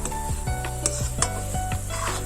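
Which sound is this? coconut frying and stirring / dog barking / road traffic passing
coconut frying and stirring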